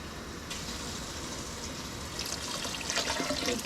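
Water poured from cans into a pot, a steady close splashing and filling sound that grows louder and more turbulent toward the end, with no voices.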